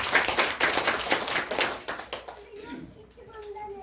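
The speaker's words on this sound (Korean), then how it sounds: "잘하셨습니다. 박수 부탁드립니다." A church congregation claps for a few seconds after a Bible reading, a brisk burst of hand claps that thins out and gives way to quiet voices and background chatter.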